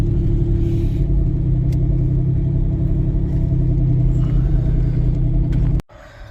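A Pontiac Fiero with a swapped 3.4 V6 idles loudly and close, a steady deep rumbling drone that cuts off abruptly near the end.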